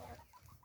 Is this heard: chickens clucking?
yes